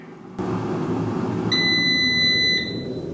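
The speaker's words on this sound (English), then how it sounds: "now we're going to wait for the final beep" An air fryer's single sustained electronic final beep rings out for about a second over its steady fan hum, then stops.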